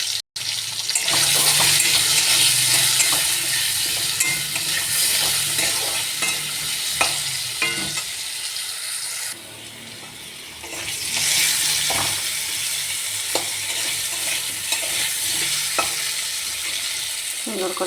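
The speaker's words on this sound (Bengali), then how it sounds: "সুন্দর করে আলুগুলো ভাজা হয়ে গেছে।" Potatoes frying in oil with salt and turmeric, stirred with a utensil: a steady close sizzle runs throughout, broken by scraping stirs and brief clinks, with a short dip in the hiss midway before it swells again.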